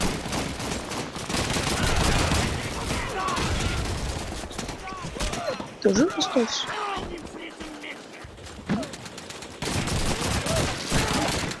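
Gunfire bursts in Call of Duty 2, a World War II shooter, with machine gun fire rattling over game noise while someone talks throughout.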